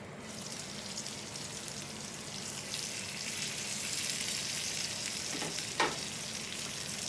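Baby potatoes for Bombay aloo fry in a pan with a steady, faint sizzle, and a spoon stirring scrapes through them near the end, with no voices.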